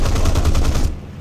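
Rapid burst of aircraft machine guns and 20mm wing cannons on a CAC Boomerang Mk1 fighter in War Thunder, dense loud rattling fire that cuts off abruptly after about a second.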